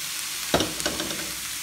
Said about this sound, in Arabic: نبقى نحركهم